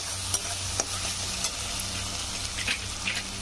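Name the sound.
masala spice paste being sautéed and stirred in pan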